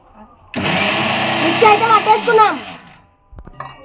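Mixer grinder whirring fenugreek and mustard seeds, starting abruptly, running loud and close for about two seconds with a wavering pitch as it grinds, then cutting off, followed by brief clinks.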